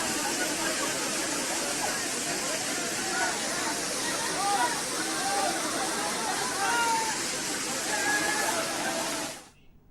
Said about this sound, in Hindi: पहाड़ियों से बरसात का पानी नरासर कुंड पर गिरता है।